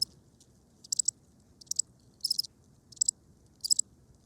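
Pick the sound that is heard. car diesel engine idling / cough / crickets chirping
crickets chirping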